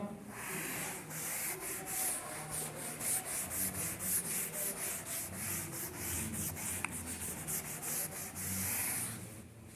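A board is rubbed clean of chalk writing during a physics lesson, a steady rhythmic scrubbing of repeated back-and-forth strokes, close and fairly loud, with no talking over it.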